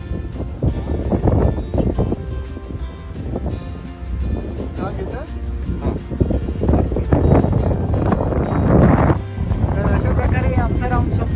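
A boat motors across Pawna Lake near Lonavala, a steady loud engine drone mixed with heavy wind buffeting the microphone throughout, with people talking over it.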